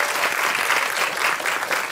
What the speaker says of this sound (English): So let's have a round of applause for Asha.